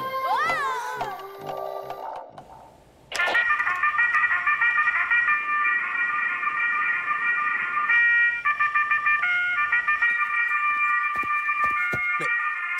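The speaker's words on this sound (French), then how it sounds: "Mais c'est mon réveil!" A cartoon alarm clock suddenly starts ringing after a brief wavering voice-like sound, then keeps up a loud, steady, shrill electronic ring with slight changes in pattern until the end.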